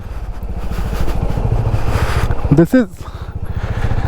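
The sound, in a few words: motorcycle riding on Lakshman Jhula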